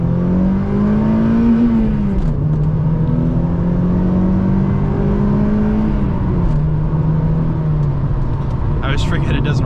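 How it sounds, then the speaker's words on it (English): A Mazda Miata with a 2-liter Ford-based engine hums loudly while driving, pitch rising and settling through gear changes in a steady drone, heard from inside the car with a voice talking over it. "It's a little 2-liter, basically a Ford engine,"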